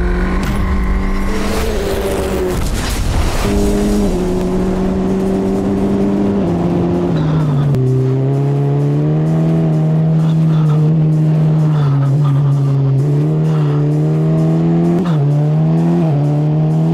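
An unrestricted GP Explorer F4 race car runs timed laps on track, its loud engine droning steadily close by, pitch climbing and dropping through gear changes as it accelerates and brakes.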